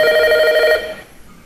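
A Gempro GP-530 fixed wireless terminal's telephone bell rings in one short electronic burst, then cuts off into quiet.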